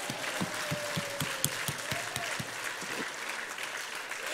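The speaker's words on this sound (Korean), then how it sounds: "주님께 영광의 박수 올리겠습니다" A church congregation at Pyeongtaek Full Gospel Church applauds in unison during worship, with rhythmic, evenly spaced claps under a full crowd wash and a sustained tone in the background.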